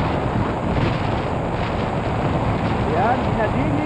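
Strong, cold wind blows steadily outdoors as a continuous broadband rush, with faint voices in the background.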